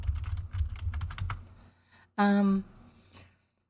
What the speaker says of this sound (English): Yes, I know my keyboard's loud.